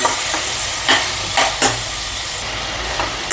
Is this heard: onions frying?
yes